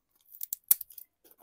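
A few quick, soft snips of scissors cutting, close and quiet, in a brief irregular burst.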